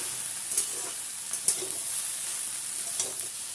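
Ridge gourd stirred into a pan with fried eggplant, a steady soft sizzle of frying under occasional scraping clicks of the spatula, close and alone with no talk.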